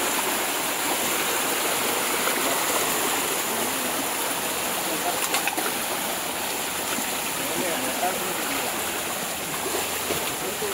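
A village stream, where crabs are being caught among the rocks, rushes steadily and evenly throughout, loud and close, with no break in the flow.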